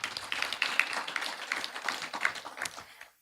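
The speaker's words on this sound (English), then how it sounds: "A round of applause for them, please." An audience at an agricultural project closeout ceremony in Jamaica claps, a close, dense patter of many hands that keeps going for about three seconds and then cuts off abruptly.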